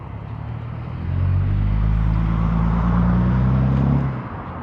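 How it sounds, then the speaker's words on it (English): A single car passes by on the road, its engine and tyre noise rising over about a second, holding steady, then fading away at close to medium distance. "As a car passed by."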